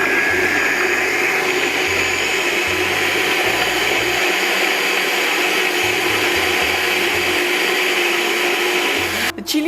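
A blender running on its ultra blend setting, pureeing chilies for sambal tumis; a loud, steady high-speed whir that holds throughout, with a low pulsing churn underneath and a slight change right at the end.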